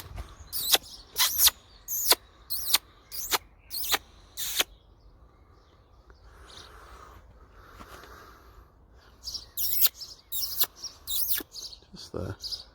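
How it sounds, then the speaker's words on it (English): A great tit sings outdoors in rhythmic bursts of sharp, bright repeated notes, a phrase of about seven strokes, then a pause with faint background sound, then another run of notes nearby. "I'll show you guys this little Tweety bird. I think it's a great tit."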